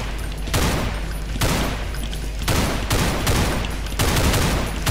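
Automatic weapon fire in the Doom mod Project Brutality rattles out in loud, close bursts of roughly a second each, separated by short gaps, with continuous game ambience underneath.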